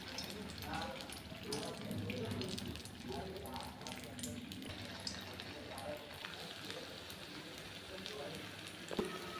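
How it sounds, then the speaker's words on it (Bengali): Vegetable fritters (bora) made with onion, garlic, cumin, salt and turmeric fry in oil in a wok, giving a soft, steady, continuous sizzle that stays faint beneath occasional talking. "কড়াইতে তেল দিয়ে আমি বড়াগুলো বানিয়ে নিচ্ছি"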